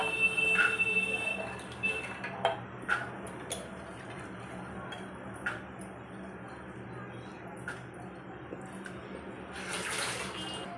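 Water poured into a pressure cooker holding soaked white peas, a faint trickling splash with scattered clinks and small knocks, fading to quieter dribbles and ending with a short rush of water.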